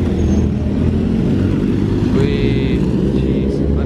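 Porsche GT3 RS sports car passing on a city street, a loud continuous engine roar that swells close by over traffic noise.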